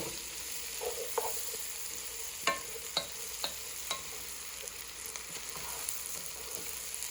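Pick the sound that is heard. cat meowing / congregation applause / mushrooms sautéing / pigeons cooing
mushrooms sautéing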